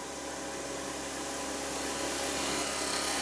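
A wood turning tool cuts into a spinning banana-shaped bowl on a lathe, throwing wispy shavings, a dense, loud, continuous hissing scrape that holds steady throughout with no talking.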